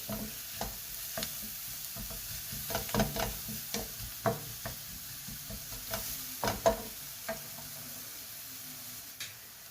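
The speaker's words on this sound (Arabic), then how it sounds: "دابا غادي نخلي هذا البصل حتى يتعرق وينزل شويه" Onions frying in a pan for a Moroccan stuffed flatbread filling: a steady close sizzle runs throughout, broken by repeated clicks and scrapes of stirring, with no talking.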